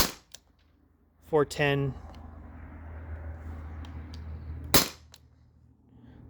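Compressed-gas shot from a T4E HDP50 launcher fed by a 20 oz CO2 tank, one sharp loud pop followed by a hiss of gas, with a brief short voice earlier.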